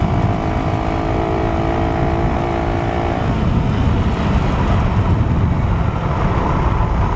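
Rouser 200 motorcycle riding alongside, a loud, constant engine roar mixed with heavy wind rush, a steady droning tone in the first half that fades into broadband noise, close and unbroken.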